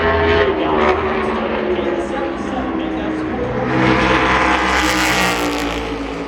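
A NASCAR race car roars across the start-finish line during qualifying at Phoenix, its engine a loud sustained drone that swells and holds as it passes, with a commentator talking over it.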